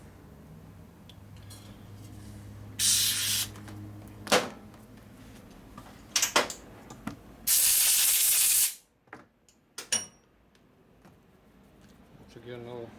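Short bursts of compressed air blowing lint out of a lifter hole on a 1988 Harley FXR motorcycle engine, several loud sharp hisses of varying length with a voice speaking in between.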